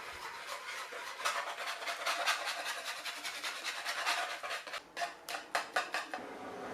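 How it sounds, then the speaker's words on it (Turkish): Whisking crepe batter made with flour in a bowl, a steady scraping and clinking rhythm of the whisk, growing into sharper, distinct strokes toward the end, close and moderately quiet. "Böyle pürüzsüz topaklanma kalmayacak şekilde iyice çırpalım."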